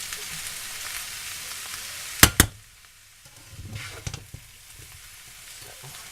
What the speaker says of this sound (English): all I have to do now is fry up my eggs